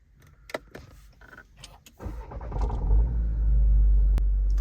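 A VW Virtus GT cranks and fires up after a few clicks, its engine settling into a loud, close rumbling idle with a sharp transient; no talking.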